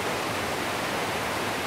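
Waterfall on the Hornbeck Trail, about 50 feet tall and split into some 20 streams and forks, makes a steady, dense broadband rush with no breaks and no voices.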